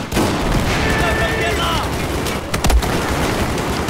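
Gunfire crackles during a Battlefield 4 Naval Strike match, with a few sharp shots mid-clip over a constant wash of busy battle noise and some voice-like sound.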